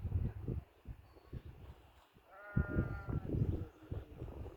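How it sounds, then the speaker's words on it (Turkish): Sheep and goats bleat from a nearby flock, one clear wavering bleat standing out amid shuffling and rustling livestock noise. "koyun sürüsünü gösteriyorum"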